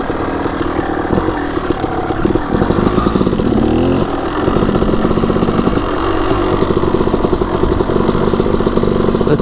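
A Suzuki dirt bike engine runs loud and close, revving and dropping as it is shifted through the gears, with a brief dip in the middle before the engine picks back up.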